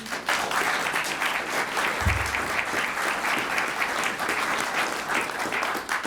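A crowd at a press conference for a Nebraska legislation announcement claps in sustained, dense applause throughout, steady and loud with no break.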